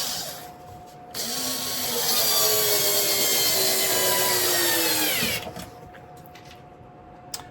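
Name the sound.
screws being driven into wood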